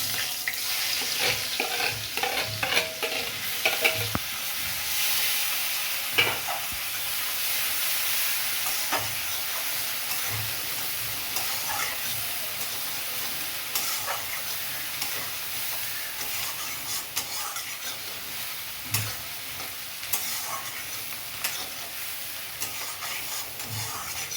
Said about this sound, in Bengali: এলাচ আর দারচিনি, আর পেঁয়াজ ঘষে নিয়েছি, দিয়ে দিচ্ছি